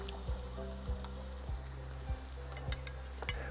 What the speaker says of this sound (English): you just hear it all sizzling in there